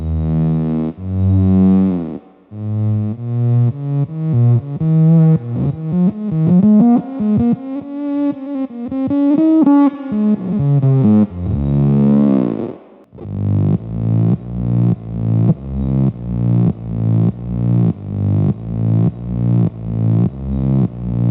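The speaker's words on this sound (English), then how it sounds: "It's just built different because it's a filter effect. It's more of a synth sound." Guitar run through a Line 6 FM4 filter modeler pedal produces synth-like filtered tones, first sweeping and wavering phrases, then a brief gap and a steady run of rhythmic pulsing notes, loud and alone.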